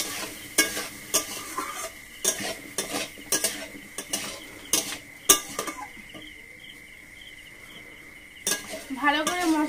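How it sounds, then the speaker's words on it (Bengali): Spice masala stir-fried with potatoes and eggplant, with salt added, produces a rhythmic run of clattering spatula strikes against the pan over a soft sizzle, a quieter sizzling pause, then more scraping. "ভালো করে মশলাটাকে ভালোভাবে কষিয়ে নিয়েছি আলু আর বেগুনের সাথে।"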